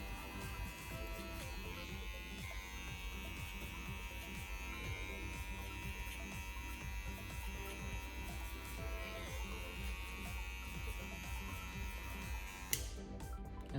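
Electric hair clippers buzz steadily close up while cutting hair over a comb, a constant bright hum with faint rhythmic ticks of passes through the hair, ending with a brief click.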